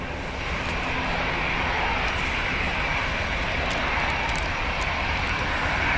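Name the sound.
British Airways airliner taking off at Dublin Airport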